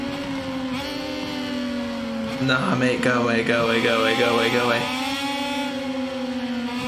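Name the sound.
Triumph motorcycle engine screaming in MotoGP 22 video game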